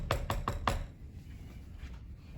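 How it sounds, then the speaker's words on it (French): Four firm knocks on a wooden door in quick, even succession, close and clear, followed by quiet room tone. "Le loup rusé vint frapper à la porte pour la 3e fois."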